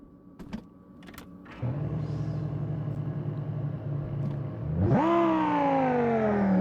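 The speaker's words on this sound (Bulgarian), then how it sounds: "Сега нека да чуем звука на колата." A Ferrari F12 in the mobile game Car Parking Multiplayer 2: a few clicks, then the engine settles into a steady idle before revving up sharply into a loud, rising whine that holds to the end.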